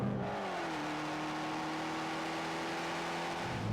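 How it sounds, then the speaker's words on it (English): Fiat 500 Abarth with a small turbocharged engine gives a steady, loud, rasping exhaust drone that rises briefly in pitch and then holds, close by and with no talking. "what is up with that exhaust note? That is exhaust porn."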